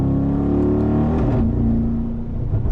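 Twin-turbo engine of a Mercedes-AMG G63 Mansory G-Wagon revving hard in second gear, a loud continuous roar that dips and rises again through a gear shift, heard close from inside the car with no talk.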